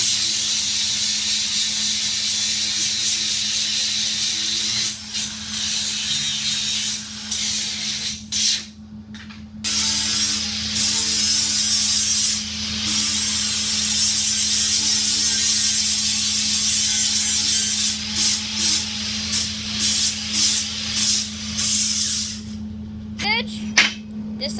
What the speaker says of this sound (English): Grinding is very loud, so you need your earplugs for this